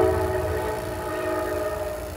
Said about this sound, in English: I'm sure y'all can hear that train behind me.